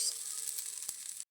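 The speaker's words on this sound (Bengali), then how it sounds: "তো আলুটা এখন ভাজতে থাকি" Potatoes frying in hot oil give a steady, close, bright sizzle that runs unbroken and stops abruptly at the end.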